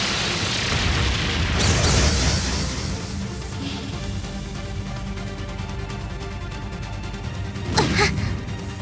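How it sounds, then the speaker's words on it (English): Brionac weapon firing in the Trails of Cold Steel III video game: a heavy boom early on, a long rumbling tail, then a second sharp blast near the end. "Brionac, activate. Fire."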